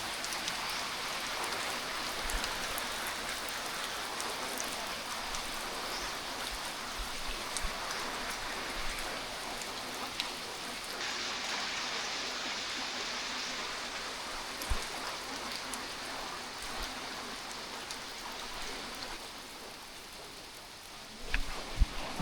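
Rain falls steadily outdoors in Davao, a continuous soft patter and hiss that stays at an even level. A few brief knocks come through near the end.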